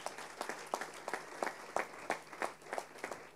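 A church congregation applauding during a Spanish-language service, steady rhythmic hand claps from many people, moderately loud and close, with a faint low hum beneath.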